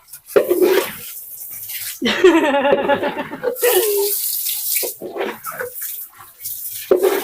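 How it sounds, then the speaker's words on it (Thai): Water pours and splashes while a pet is bathed, in bursts of running tap water and splashes interleaved with close speech. "โชคจะได้อาบน้ำมาโชค ได้เลยลูกได้เลย"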